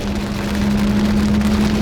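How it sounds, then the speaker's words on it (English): Steady rain pours down outdoors near a parked Lamborghini, a dense, even hiss across the whole clip with a faint constant tonal hum beneath it. "I don't know if y'all can hear me too much because of the rain"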